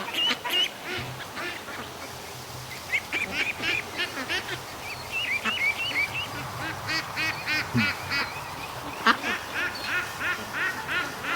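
Ducks and ducklings in a pen at night quack and honk over and over in uneven bursts, fairly close by, with no talk.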